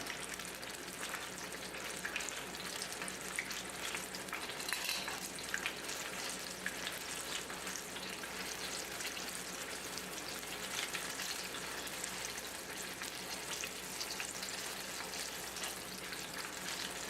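Italian apple fritters frying in hot oil give a steady, dense crackling sizzle, with no talking over it for the whole stretch.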